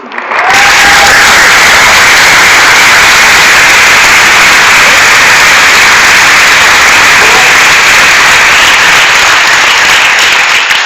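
Sustained audience applause fills the hall at the end of a comedy show at Espace Magnum in Colfontaine, a dense, loud, steady wash of clapping from many hands lasting throughout with no talk.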